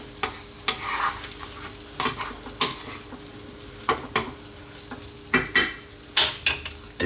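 Green onions are stirred in a frying pan, a soft sizzle under repeated close scrapes and taps of a utensil at an uneven rhythm.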